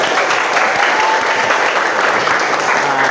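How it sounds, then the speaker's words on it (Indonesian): A secondary-school class applauding its teacher, a loud, close, continuous rattle of many hands clapping at an even intensity from start to finish. "Tepuk tangan dulu."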